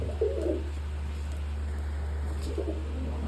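Pigeons coo in soft low bursts near the start and again around the middle, over a steady low hum, with a loft of pigeons and young birds nearby.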